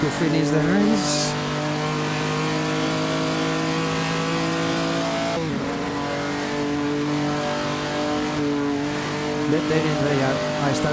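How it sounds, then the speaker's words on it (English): A postwar 1949 race car in Assetto Corsa at the Noris-Ring Grand Prix holds a loud, steady engine drone that briefly stumbles and dips as fuel runs short, then picks back up. "There I start to notice the engine cut off fuel."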